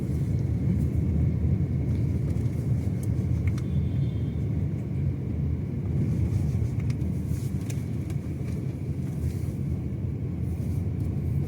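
A Tata Nexon rolls through city traffic, with a steady low engine and road rumble filling the cabin throughout, and faint higher clicks and noises from the traffic around it.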